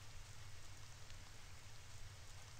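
Steady rain pours down in the horror game Paranormal Syndrome, a constant soft hiss that stays quiet and unbroken, with no voices and no other sounds over it.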